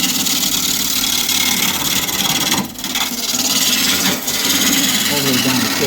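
A spindle roughing gouge cutting a wood spindle on a lathe spinning over 1,000 RPM: a steady, loud, close rasping shear over the motor hum, with two brief dips where the tool lifts off.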